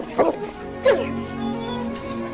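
A dog reunited with its owner gives a couple of short excited barks and yips, then a thin whimpering whine, close and fairly loud.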